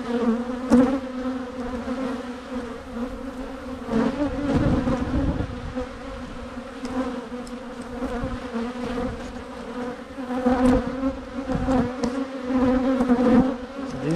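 A dense crowd of bees buzzing around a hive after a swarm, a continuous close droning hum that swells and dips over its length, with no talking.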